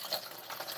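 Water is poured into a container at home, a short, soft splashing and trickling fill heard alone for under a second.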